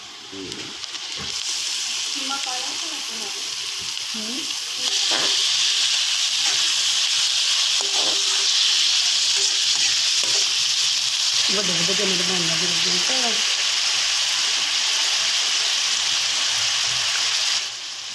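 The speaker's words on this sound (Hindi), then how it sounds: "मैंने थोड़ा सा घी लेकर कढ़ाई में डाल दिया है और इसमें प्याज शामिल कर दूंगा और इसको फ्राई करूंगा" Onions dropped into hot ghee in a wok start a loud, dense, steady sizzling hiss a few seconds in that continues unbroken until near the end, with someone talking over it at times.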